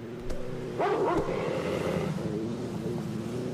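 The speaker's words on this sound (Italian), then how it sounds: "sembra davvero un cane che abbaia" A dog barks angrily in a cartoon, a few sharp close barks and a yelp rising over a steady rumbling background, then fading into quieter noise.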